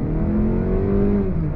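A 2022 Mazda 3 AWD with a naturally aspirated 2.5 liter inline four pulling away from a stop under throttle, a loud steady engine hum rising in pitch as it accelerates, heard from inside the car.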